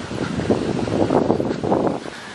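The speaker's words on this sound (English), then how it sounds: "It's very windy today and a little gloomy or cloudy." Strong wind buffets the microphone outdoors on a gloomy fall day in a San Juan Capistrano park, a continuous loud roaring rumble with surging gusts.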